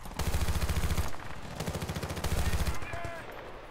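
Machine gun fire rattles in the shooter Battlefield Bad Company 2, loud rapid bursts of automatic shots with a short pause between volleys, plus distant gunfire mixed in.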